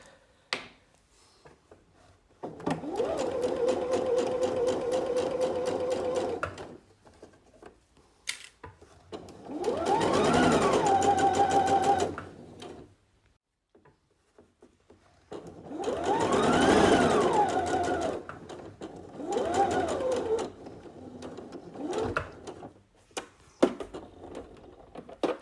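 A sewing machine stitching along the edge of a bias binding on a V-neckline, running in four loud bursts of rapid whirring stitches separated by short pauses.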